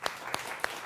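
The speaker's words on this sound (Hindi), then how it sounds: "तालियां" Three sharp, separate hand claps ring out at an even pace in a Hindi TV news debate studio, each one brief and close, with quiet background between them.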